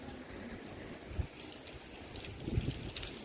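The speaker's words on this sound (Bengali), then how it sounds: "ঝোড়ো হাওয়াটা হচ্ছে এখনও" Stormy wind after Cyclone Remal blows across a rooftop, a low, buffeting rumble against the microphone with a couple of stronger gusts, while light rain continues to fall.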